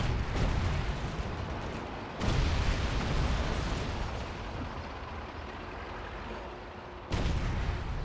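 Tank cannon blasts and explosions from the Call of Duty 2 World War II game, two sharp loud booms amid continuous rumbling battle noise and engine roar.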